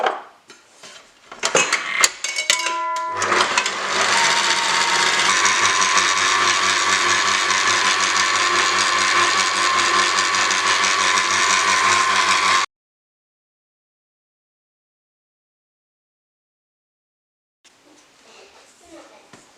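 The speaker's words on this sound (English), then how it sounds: "Then you mix that on high speed until it forms a dough." Stand mixer beating ciabatta dough on high speed, a steady loud whirring drone with rattling bowl clatter that runs for about ten seconds after a few opening knocks, then cuts out to silence with faint noise near the end.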